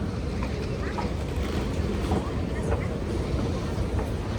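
A Sydney Metro train moving through the Barangaroo crossover cavern, a loud, continuous rumble and roar that fills the underground space, steady throughout.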